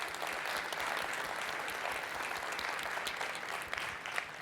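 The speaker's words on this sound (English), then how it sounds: "Let's give them a round of applause." A conference audience at a Rust programming talk breaks into sustained applause, a dense, even wash of many hands clapping from a roomful of people, steady for several seconds without speech.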